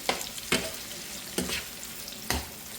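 Onion and vegetables fry in a pan for a corned beef and spaghetti dish, with a gentle sizzle beneath four distinct spoon-stirring scrapes spaced roughly a second apart.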